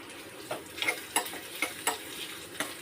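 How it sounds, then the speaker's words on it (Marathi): Onion fries with cumin and coconut masala in a pan, giving a faint sizzle broken by about six soft, evenly spaced stirring scrapes. "थोडासा कांद्याचा कच्चापणा जाईपर्यंत भाजायचं."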